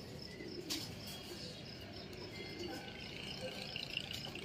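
Loft pigeons coo softly at a distance, with faint chirps and a brief wing flutter mixed into quiet background noise.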